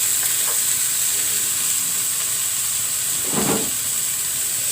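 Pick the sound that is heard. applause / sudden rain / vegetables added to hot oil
vegetables added to hot oil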